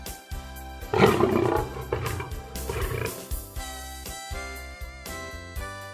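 Lion roaring, a deep rough roar swelling early and trailing off, set over steady background music with a regular beat.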